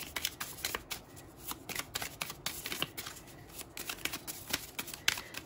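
Tarot cards are shuffled close up in quick riffling bursts of papery flicks and snaps, repeating steadily with no talk over them.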